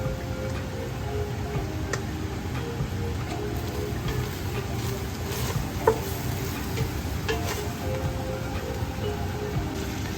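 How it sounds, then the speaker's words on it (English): Lumpia filling seasoned with salt, pepper and Goya seasoning is stirred in a pan, a steady soft scraping and rustling that runs evenly throughout, with faint light ticks scattered over it. "And give it a stir"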